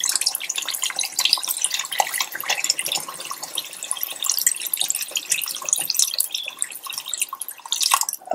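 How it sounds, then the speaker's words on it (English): Water being poured into a cooking pot of beef for haleem, a close splashing, gurgling stream that runs steadily and surges again near the end, with no talk. "So now I'm gonna add about 4 cups of water."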